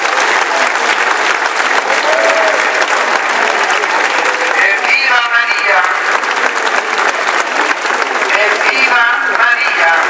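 A church congregation applauds Mary during a Madonna degli Angeli celebration at a convent, dense sustained clapping filling the whole stretch, loud and steady, with occasional voices and cheers rising through it.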